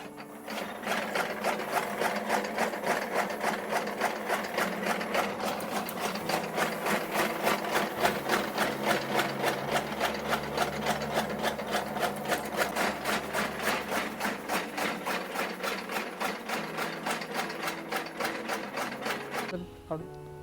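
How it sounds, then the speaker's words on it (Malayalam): A straw-cutting machine for milky mushroom cultivation chops paddy straw with a rapid, steady mechanical chatter, loud and close, running evenly for the whole stretch before stopping abruptly at the end. "ഫസ്റ്റ് നമ്മൾ ചെയ്യുന്നത് ഈ മെഷീനിൽ വൈക്കോല് കട്ട് ചെയ്യാണ്"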